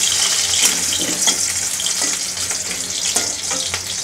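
Potatoes dropped into hot soybean oil in a pan for a mutton curry, a loud, dense, continuous sizzle and crackle up close with no talk.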